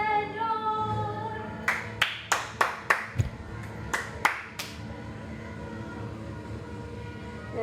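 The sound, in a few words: congregation applauding the Lord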